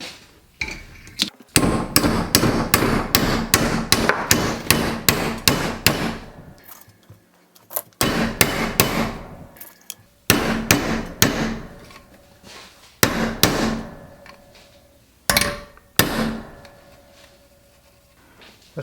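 Repeated hammer blows on a metal gas tank mount for a Grom E33 motorcycle, several loud clanging bursts of rapid strikes separated by short pauses, up close with no talking.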